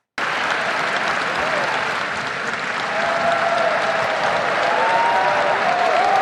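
An audience claps in steady, sustained applause, a dense wash of many hands that stays loud throughout and swells slightly toward the end.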